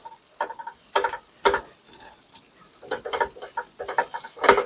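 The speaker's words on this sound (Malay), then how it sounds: "kita masukkan bawang. Lepas tu daun kari. Lepas tu dengan cabai." Onion, curry leaves and chilli hitting hot oil in a pan after prawns were fried, bursts of sharp crackling sizzle that flare and fade in irregular clusters, close by, with no talking.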